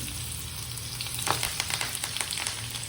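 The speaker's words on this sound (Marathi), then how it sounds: "तेलामध्ये पहिल्यांदा थोडासा कांदा टाकणार आहे" Onion dropped into hot oil for an egg curry, a constant crackling sizzle up close, with sharper spits and pops bursting through after a moment.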